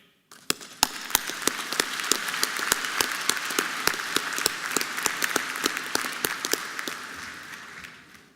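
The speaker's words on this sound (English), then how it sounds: "You all deserve a big round of applause again." An audience at a university engineering commencement ceremony breaks into sustained applause, many hands clapping densely with a few sharp individual claps standing out, swelling quickly and then fading near the end.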